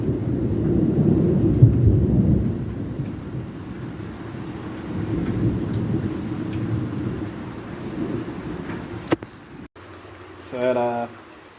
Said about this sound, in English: here's a couple of videos of the thunderstorm